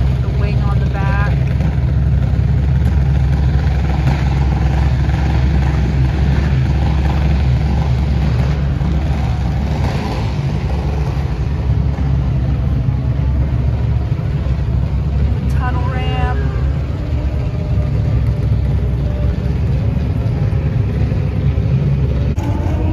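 A drag racing truck with a rear wing idles at a drag strip, a loud deep steady engine rumble filling the whole clip, with people talking over it now and then.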